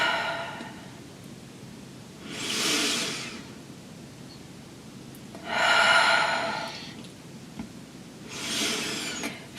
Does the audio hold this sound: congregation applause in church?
no